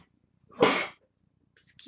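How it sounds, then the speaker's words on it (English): A single sharp human sneeze indoors, loud and close, followed by a short pause and a faint breath or start of speech at the end. "I gotta sneeze."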